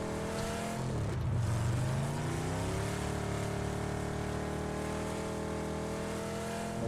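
A car engine strains in PUBG, a steady loud droning whine with a rising pitch sweep early on, then holding at a sustained high rev.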